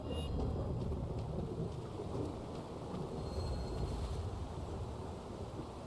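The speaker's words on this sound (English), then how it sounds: "A thundering swamp lies nearby." Rain pours and thunder rumbles continuously over a swamp in a fantasy video game, a steady loud low roar with no speech.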